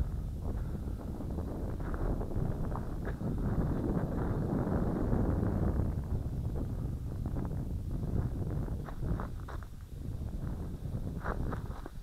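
Wind buffets outdoors during a Syma X5C or WLToys V222 quadcopter flight, a loud continuous low roar of rushing air on the microphone with faint rustling and no talk.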